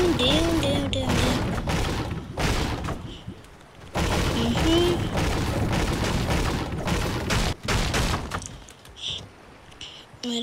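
A house being wrecked in the video game Fortnite, heard as repeated loud crashing and breaking hits in bursts separated by short gaps, with voices talking over parts of the action.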